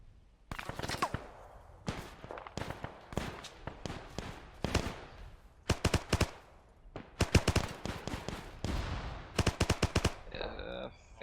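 Enemy gunfire in the WWII Arma 3 game, with sharp rifle and machine-gun bursts crackling in irregular clusters, some close and loud and others thinner and more distant, over a continuous battlefield background.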